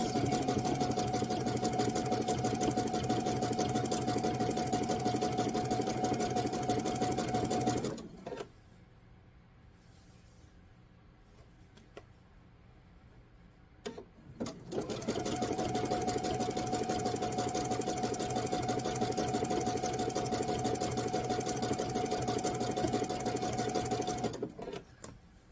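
A sewing machine stitches fabric and rope for a bowl project in a loud, fast, even mechanical whir, stopping for several seconds of near quiet with faint handling, then running steadily again before a brief halt near the end.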